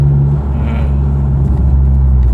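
A 2016 Ford Mustang EcoBoost with a Maperformance turbo upgrade runs steadily, its deep engine drone and low rumble heard from inside the car while driving around a cul-de-sac, loud and continuous with no talk.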